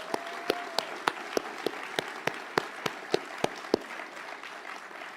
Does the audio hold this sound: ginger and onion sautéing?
no